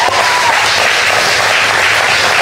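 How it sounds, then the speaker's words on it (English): A church congregation claps together on a Sunday morning, a loud, continuous roar of hands that stays even from start to finish with no pauses. "Let's give our viewers that are watching live a good hand clap this morning"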